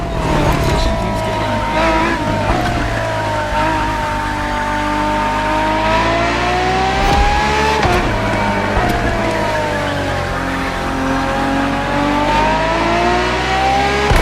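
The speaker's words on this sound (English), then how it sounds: "for this second lap, you'll be driving the FXXK." A Ferrari FXX-K engine revs hard while racing in The Crew Motorfest, a continuous loud roar rising and falling through gear changes with tire squeal mixed in.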